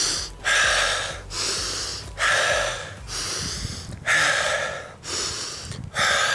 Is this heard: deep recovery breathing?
yes